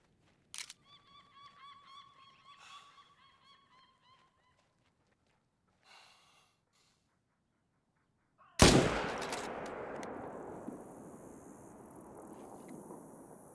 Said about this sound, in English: we're going to go ahead and pop both of them